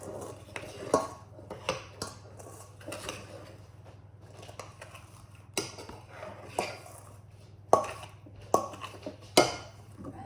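Cookie cake dough is stirred in a bowl with irregular scraping, tapping and knocks of a utensil against the bowl, closely heard over a low background hum.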